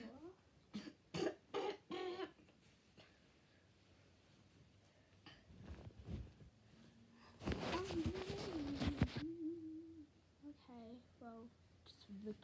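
A girl coughs indoors, a cluster of sharp coughs near the start and a longer coughing bout midway, close and moderately loud, with quiet talking and faint rustling between them.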